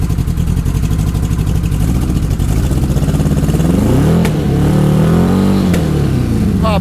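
A 1984 Honda Goldwing engine runs in the cold, loud and close, with a rapid, steady idle beat that climbs into a rev and settles back down, with a couple of sharp pops along the way.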